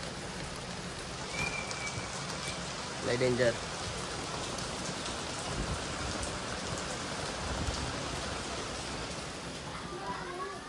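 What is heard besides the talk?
heavy rain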